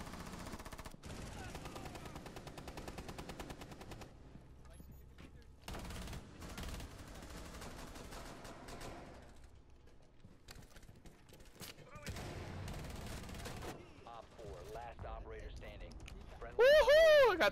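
Gunfire in a Rainbow Six Siege match comes in bursts and scattered shots over game noise and music, mid-loud, with a louder electronic tone near the end.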